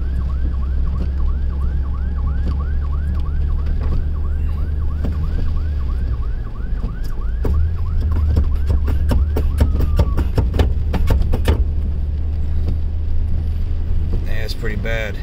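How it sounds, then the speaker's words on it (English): A fire truck siren wails in repeated rising-and-falling cycles through Hurricane Ida, heard over a steady low engine and road rumble from inside a vehicle, later joined by horn blasts and someone speaking. "Fire truck."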